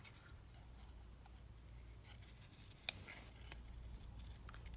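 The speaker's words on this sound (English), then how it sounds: "So I'm just going to cut that one down instead." Scissors cutting paper for a vintage-style paper pouch, soft snips with one sharp clip, close and quiet with no talk.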